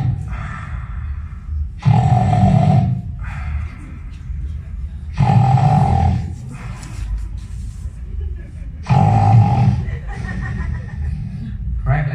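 A voice imitates snoring with three loud, rasping breaths spaced a few seconds apart, with quieter breathy sounds in between.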